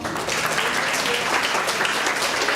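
A Spanish-speaking audience at a talk on accelerated learning breaks into loud, dense applause, an even wash of clapping that fills the whole stretch without pause.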